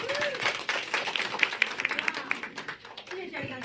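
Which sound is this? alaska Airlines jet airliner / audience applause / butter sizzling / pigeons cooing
audience applause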